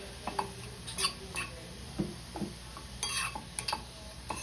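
Vegetables with a little turmeric being stirred in a pan: soft, irregular scraping strokes and light metallic taps from a spoon, close by and fairly quiet.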